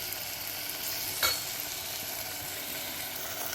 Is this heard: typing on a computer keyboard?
no